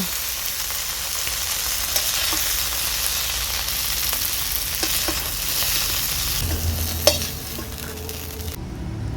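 Okra frying in oil in a pan, a loud, steady sizzle close by with occasional taps and scrapes of a spatula stirring, ending in a sudden sharp clack, with no speech.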